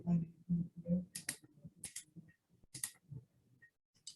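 Computer mouse clicks, several crisp, isolated taps scattered among low-level speech, close and dry.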